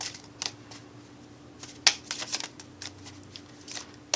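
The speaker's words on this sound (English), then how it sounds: "These cards are hard to start shuffle." A small deck of tarot cards is shuffled by hand in quick bursts, with crisp riffling and flicking sounds at irregular intervals over a faint low hum.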